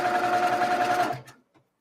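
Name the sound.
sewing machine stitching quilt block pieces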